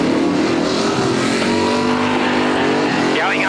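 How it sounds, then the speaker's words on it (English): Super sedan race cars roar around the Newcastle Motordrome track in 1979, loud and continuous engine drone with shifting pitch as cars pass, under a race commentator's voice. "Now we've got cars going everywhere, round and round in circles"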